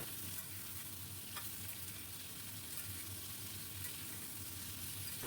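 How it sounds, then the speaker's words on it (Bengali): Eggplant pieces fry in oil with black cumin, giving a continuous soft sizzle and bubbling at moderate distance, with faint stirring scrapes and no voices. "খুব ভালো করে বেগুনগুলো ভাজতে থাকবো।"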